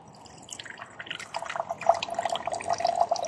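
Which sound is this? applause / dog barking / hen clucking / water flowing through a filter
water flowing through a filter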